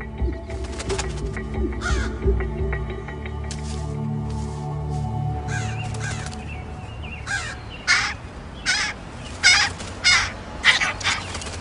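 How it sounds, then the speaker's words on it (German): Crows give repeated harsh warning caws, scattered at first and then in a steady run of loud, close calls over a faint background. "Krähen haben verschiedene Warnrufe, einen für Katzen und einen für Habichte und auch einen für Menschen."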